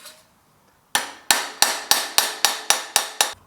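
Nine sharp metallic hammer blows on a sheet metal transmission tunnel panel for a GTO ring out in a steady rhythm, loud and close, each with a short ringing decay.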